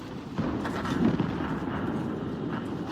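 Tank cannon fire aimed at an enemy ammo rack in World of Tanks, heard as dull, muffled booms with a stronger thump near the middle over a steady low rumble of engine and battle noise.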